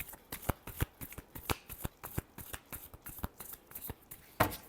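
Tarot cards being shuffled, a quick run of soft riffling flicks and taps close by and faint, ending with a sharper final snap, no talk.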